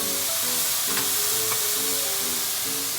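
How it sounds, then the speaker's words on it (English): Butter sizzling and frying in a hot pan, a steady loud crackling hiss with stirring scrapes heard close up, no voices. "Now I'm adding in about 2 tablespoons of butter."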